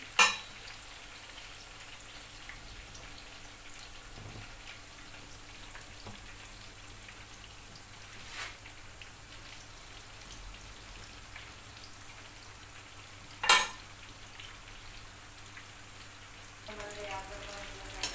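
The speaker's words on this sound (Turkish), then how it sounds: "Patlıcanlar kızarmaya başladı." Eggplant frying in hot oil gives a faint, steady sizzling hiss sprinkled with occasional sharper pops and crackles, with no talking.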